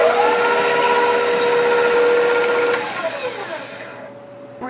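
An electric stand mixer runs steadily while it beats a yeast and milk mixture into dough for cinnamon rolls. The motor whines loud and even, then eases off and slows toward the end, with no voices.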